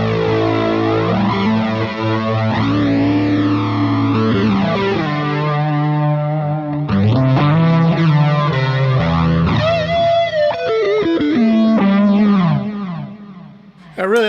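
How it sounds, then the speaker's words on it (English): Electric guitar played through a pedalboard with a tape flange effect, loud and sustained with distorted chords and sweeping, whooshing pitch modulation, ending in a brief fade. "can even add a little bit of tape flange after it."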